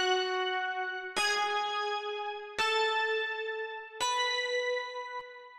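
A Yamaha DX7 bell patch with chorus, from a recreation of a song, strikes four clear notes in turn, each ringing bright and shimmering before slowly decaying, heard alone and close.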